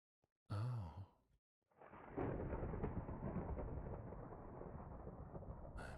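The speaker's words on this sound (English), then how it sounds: "I think I should be able to sleep through this thunderstorm" A long thunder rumble during a thunderstorm rolls in after a brief breathy sigh, building to a broad, steady roar that holds loud for several seconds.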